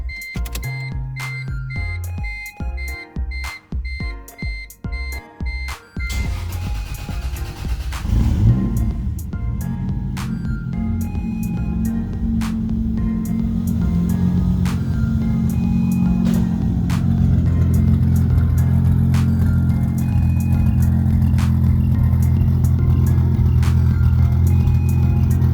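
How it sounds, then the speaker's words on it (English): A Toyota 2JZ engine cold starts: a rapid cranking stutter for several seconds, then it catches and settles into a loud, steady idle that swells slightly and holds close to the listener. "Cold start."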